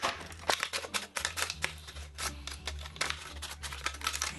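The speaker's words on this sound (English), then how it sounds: "we're going to cut up this milk bottle instead" A plastic milk bottle being cut up with scissors or a blade, giving a run of close, crisp snips and crackling plastic crunches in an uneven rhythm, with no talking.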